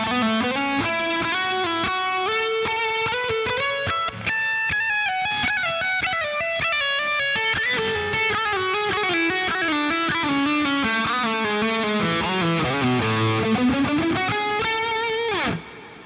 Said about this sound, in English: So the reverb and delay in Blue Cat Axiom are fantastic.